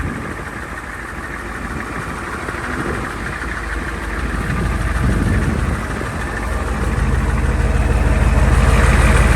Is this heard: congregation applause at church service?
no